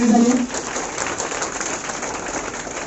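Audience applause at a school ceremony honouring matriculation board exam toppers, a steady crowd clapping that carries on throughout.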